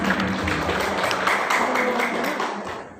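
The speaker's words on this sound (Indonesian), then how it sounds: "Berikan tepuk tangan." Applause at a school farewell ceremony for graduating students in Indonesia, a dense, steady patter of many hands clapping that fades toward the end.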